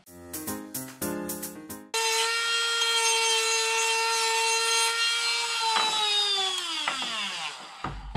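Wooden arms of homemade sunglasses being smoothed in a workshop: a few short scraping strokes, then a loud steady whining tone that holds for several seconds and winds down in pitch before stopping.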